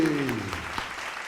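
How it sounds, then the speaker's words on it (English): Audience applause for a ventriloquist act, a short burst of clapping that rises as a voice finishes speaking and then fades quickly. "How about an applause for Horatio and his dummy"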